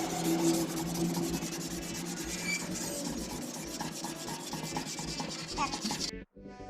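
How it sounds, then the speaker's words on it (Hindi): Steady, close abrasive rubbing of 320-grit emery paper worked by hand over a Honda CG 125 motorcycle fuel tank, continuous scratchy strokes with no talk, cutting off abruptly near the end. "फ्यूल टैंक को कलर करने से पहले आपको 320 नंबर के एमरी पेपर की मदद से फ्यूल टैंक के ऊपर रगड़ाई करनी है"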